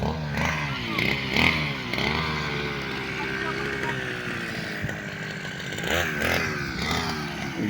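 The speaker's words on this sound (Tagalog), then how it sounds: "Tapos kagad oh, bilis talaga magkipag grass cutter." A grass cutter running outdoors, a buzzing two-stroke engine whining up and down in repeated surges, fairly loud and close, with people talking over it.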